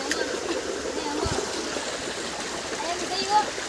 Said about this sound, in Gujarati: જો અહીં કુંડી છે એટલે હાથ પર ધોઈને જોવા બેસી ગયો પાણી પાસે